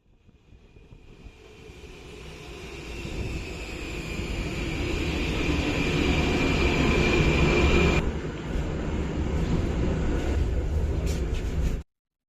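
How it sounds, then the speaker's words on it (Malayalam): A metro train in Prague rumbles into the station, growing louder over several seconds with a rising whine, then holds steady before the sound cuts off abruptly. "അടുത്ത മെട്രോ വന്നു."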